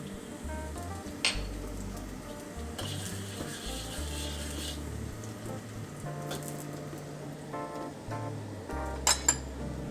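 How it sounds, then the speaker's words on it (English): Chopped garlic sizzles and fries in a hot wok for Penang Char Koay Teow, a steady close hiss with scattered stirring clinks and a few sharp metallic taps near the end. "I'm going to toss in the garlic first."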